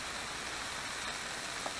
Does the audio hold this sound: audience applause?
no